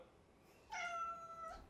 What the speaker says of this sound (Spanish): ¿Pero y qué me dice de este gatito?